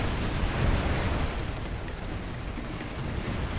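Sustained artillery barrage in Supreme Ruler 2020, a dense rumbling roar of overlapping explosions filling the whole stretch, loud and continuous with no talking.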